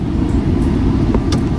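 A car on the road to a temple on Janmashtami gives a steady, close low rumble of engine and road noise throughout, with no talk.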